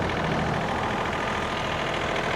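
A lawn mower engine runs steadily and close by, a continuous rumbling drone with no break or voices over it.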